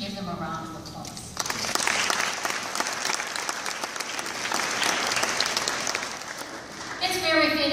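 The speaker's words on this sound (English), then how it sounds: "We should give them a round of applause." A room full of people breaks into loud, sustained applause at a Women's History Month celebration in Regina; the clapping starts abruptly, swells and holds, and a voice talks just before and after it.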